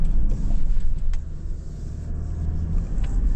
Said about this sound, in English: A little bit of wheel spin then